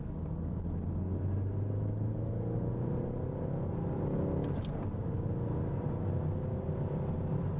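A Ford Focus ST engine drones steadily with a deep rumble as the car drives, pitch rising and shifting through gears, loud and close.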